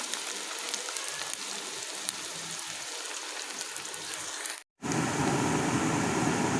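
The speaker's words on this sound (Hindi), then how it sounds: "ऑयल हमारा अच्छे से गर्म हो चुका था। अब हमने प्याज को लाइट ब्राउन कलर करना है।" Onions frying in hot oil in a pan for chicken karahi, a steady close hiss of sizzling that cuts out briefly, then returns louder and fuller for the rest.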